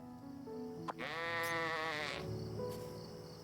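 Sheep bleating in a video game, one drawn-out wavering bleat lasting about a second, loud and close over a steady game background, with a short click just before it.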